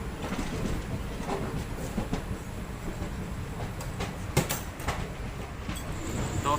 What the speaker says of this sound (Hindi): दोस्तों हमारी ट्रेन रोहतक से डिपार्चर हो चुका है